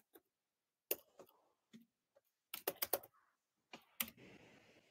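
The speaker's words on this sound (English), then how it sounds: "Let me type in the password." Password typed on a computer keyboard: a handful of sharp, close key clicks in uneven bursts, with quiet gaps between them and no voices.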